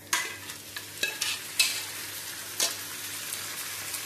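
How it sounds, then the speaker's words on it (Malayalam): Cooked beef with pepper fries in a pan, sizzling softly under repeated sharp scrapes and clatters of a spoon stirring it, close and clear with no talking. "ഇനി അതിലേക്ക് നമ്മൾ വേവിച്ച് വെച്ചിട്ടുള്ള ബീഫ് ചേർത്ത് കൊടുക്കുക."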